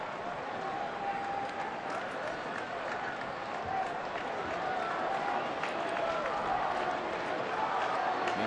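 A crowd of more than 30,000 roars steadily at a Detroit Tigers home night game against Minnesota, a broad, sustained wash of cheering and clapping that swells slightly toward the end, with no voices over it.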